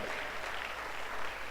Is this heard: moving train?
no